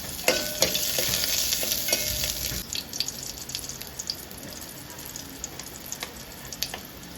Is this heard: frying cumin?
yes